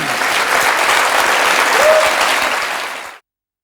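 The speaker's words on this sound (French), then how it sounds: "Merci Marca, je pense qu'on l'applaudit." A studio audience on a French television show applauds, producing steady, fairly loud dense clapping for about three seconds before it cuts off abruptly into silence.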